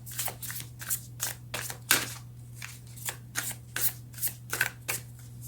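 A deck of tarot cards is shuffled and drawn by hand, a regular series of crisp riffling flicks about twice a second, close and fairly soft over a constant low hum, with no talking.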